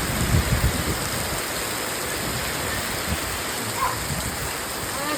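Torrential downpour of heavy rain, a steady dense roar filling the scene with no pauses, a few low rumbling thumps near the start.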